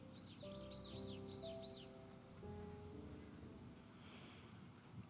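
Birds chirp and trill outdoors in a short burst of repeated high calls, fading out after a couple of seconds, over a steady low background hum.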